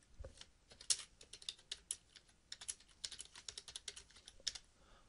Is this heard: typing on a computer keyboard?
yes